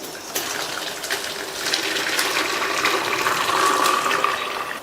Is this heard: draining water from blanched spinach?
yes